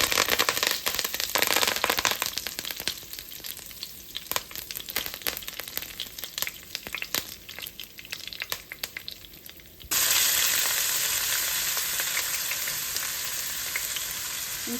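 Curry leaves and cumin hit hot oil in a pan with a loud, dense sizzle and crackle, easing slightly, then a fresh burst of bright, steady frying as more goes in partway through.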